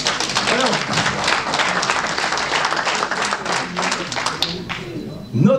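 An audience applauding at a New Year's greetings event in Essert, with a thick, continuous clatter of many hands that fades near the end, where a voice begins to speak.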